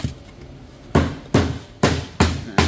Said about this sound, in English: a little mallet, nice little even pressure, get them flush